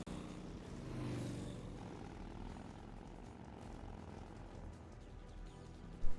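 Video game helicopter, a steady whirring rotor and engine drone that swells early and then holds at a constant moderate level, ending on a short thud.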